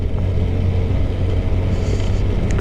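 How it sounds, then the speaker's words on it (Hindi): Motorcycle engine braking in low gear on a snowy winter mountain road in Spiti Valley, Himachal Pradesh; a steady, close low rumble of the engine holds throughout without clear revving. "गियर डाउन रखो और इंजन ब्रेकिंग से चलो।"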